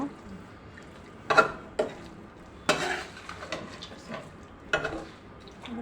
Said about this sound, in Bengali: একটু চামিচ দিয়ে মাখিয়ে নিলাম